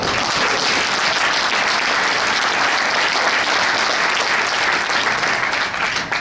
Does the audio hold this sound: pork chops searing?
no